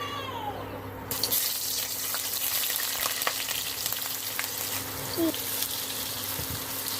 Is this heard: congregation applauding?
no